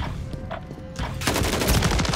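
Gunfire in a Call of Duty style multiplayer shooter, with scattered shots early that build into a dense, loud burst of rapid automatic fire.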